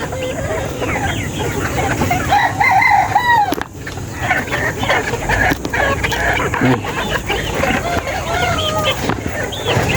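Chickens and stag roosters cluck and crow nearby on a farm, with a rooster's crow standing out over ongoing clucking and a person talking at times.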